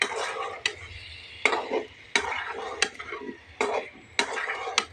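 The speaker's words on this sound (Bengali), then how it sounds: "আমি তেল দিয়ে এখন এটা কষিয়ে নিচ্ছি" Spices with onion-garlic paste, coriander powder and salt sautéed in oil in a pan, heard as repeated sharp metal spoon scrapes and clanks against the pan over a faint sizzle, alone without talk.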